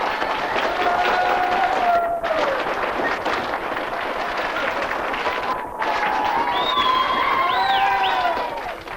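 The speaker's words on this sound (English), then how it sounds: "Tremendous applause from the thousands here in the parish hall in Butlersbridge." Thousands of people in a parish hall in Butlersbridge, County Cavan, cheer and applaud in a loud, continuous roar with scattered whistles and shouts. There are brief dips before it swells again, and no one speaks over it.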